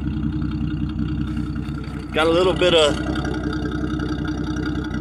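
A 1974 Ford E100 work van engine idling with a steady low rumble, while someone talks over it briefly.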